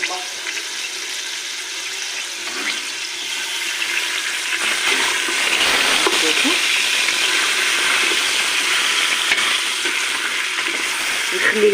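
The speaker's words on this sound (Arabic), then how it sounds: "راني نحمر" Meat fries in a pan with a steady, loud hiss and sizzle throughout, joined midway by stirring noises and a brief clatter.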